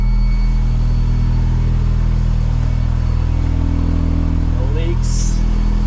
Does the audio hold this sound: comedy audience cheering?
no